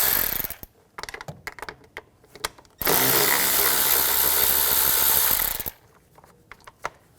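Power tool or ratchet working continuously for about three seconds while 8mm socket screws come out of a 2013-2019 Ford Escape front bumper cover, surrounded by scattered clicks and handling clatter.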